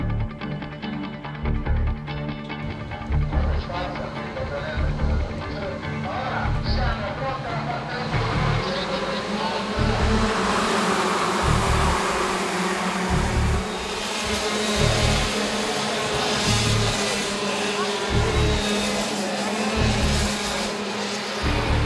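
Racing karts buzz through a rolling lap at a major European kart competition, a continuous high-pitched engine drone with rhythmic pulsing as the engines cycle, steady and fairly loud across the whole stretch, with talking over the top.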